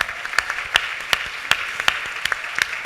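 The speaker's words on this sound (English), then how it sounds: "One more round of applause" Scattered applause from a luncheon audience, sparse individual claps standing out sharply over a steady soft wash of hand-clapping, moderately distant and fairly even.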